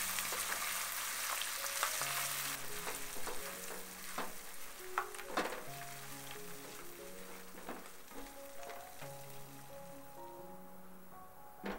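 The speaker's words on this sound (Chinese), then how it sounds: "加入25克的奶油，持续搅动，直到均匀浓稠的质地" Butter stirred into hot amber caramel in a pan off the heat, a steady bubbling sizzle with scraping strokes of the utensil, close and continuous throughout.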